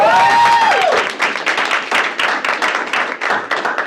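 An audience at a stakeholder meeting breaks into warm applause, dense clapping that starts loud and carries on steadily, with a few voices mixed in at the start.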